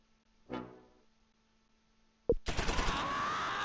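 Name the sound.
gunfire in video game Close Combat IV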